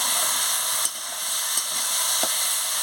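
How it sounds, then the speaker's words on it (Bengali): Ridge gourd, cucumber and potato are stir-fried with a little sugar in a pan, giving a steady, close hiss of sizzling with a few faint stirring taps. "সামান্য মিষ্টিটা দিয়ে দিচ্ছি, দিয়ে ভালো করে কষিয়ে নিচ্ছি।"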